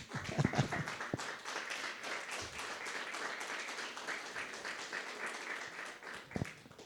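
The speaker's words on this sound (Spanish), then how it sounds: "Den un fuerte aplauso al Señor." Church congregation applauding after a sermon line, steady dense clapping at moderate level for several seconds, with a few louder nearby claps at the start and end.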